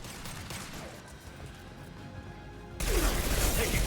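Gunfire in the video game Mass Effect 2 during a firefight: a quieter stretch of scattered shots and clatter gives way to a sudden loud, dense burst of weapon fire near the end.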